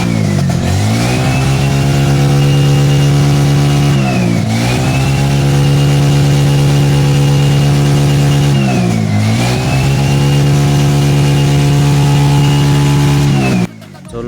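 A TVS King three-wheeler engine running loud and close during a power test after a check-engine, low-power fault fix, held at steady high revs with three brief dips and recoveries, then cutting off at the end.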